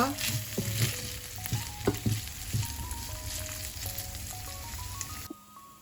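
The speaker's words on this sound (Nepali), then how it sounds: "अब म यसमा अलिकति अदुवाको भुजुरी राखेर एकैछिन फेरि यसलाई भुट्छु" Chicken frying with a little grated ginger keeps up a steady sizzle and crackle, with faint melodic tones above it and stirring bumps early on, until the sound cuts off abruptly near the end.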